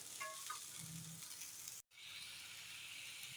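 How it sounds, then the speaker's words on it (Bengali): Potatoes and pointed gourd sizzle steadily as they shallow-fry in a pan, a continuous close hiss with a few light stirring scrapes early on and a brief break midway. "এখানে আলু আর পটলগুলি ভেজে নিচ্ছি হালকা ভেজে নেব"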